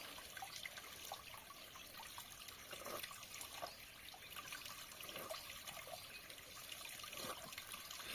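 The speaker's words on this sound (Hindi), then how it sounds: "इसका जो वाटर है वो वाटर स्ट्रीम अभी भी बह रहा है" A mountain water stream on the Chanderi Fort trek trickles and flows steadily, a faint, continuous burble with small splashes and no voices.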